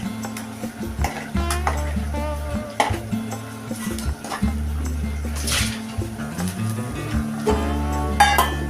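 A spoon stirs fish curry in a metal pan, scraping and clinking against the sides in steady, uneven strokes under continuous background music.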